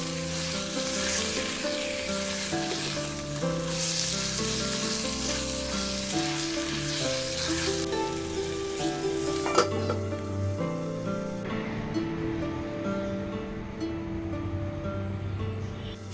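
Marinated chicken pieces sizzle steadily in a hot pan for a Mughlai chicken handi, with continuous frying crackle and occasional stirring scrapes, close and fairly loud.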